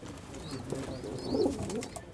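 Pigeons cooing softly close by, a few low murmuring coos over a busy background of other faint birds and ambient noise.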